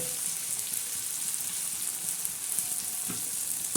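Tomatoes and onions fry in hot tempering oil, giving a steady, bright sizzle that crackles evenly throughout at close range, with a faint thud near the end.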